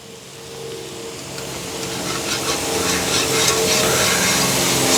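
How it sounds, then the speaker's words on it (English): Minced garlic sizzles on a hot Blackstone griddle, a steady close hiss and crackle that grows slightly louder, with no talk over it. "listen to that sizzle of that garlic."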